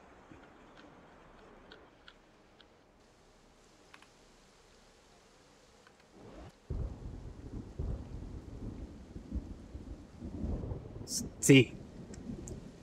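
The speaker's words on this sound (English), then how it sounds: "Thunder." Thunderstorm with rain in the video game Infection Free Zone: a quiet stretch gives way to a steady wash of rain, then a deep thunder rumble builds and peaks in a loud crack near the end, with a brief spoken word partway through.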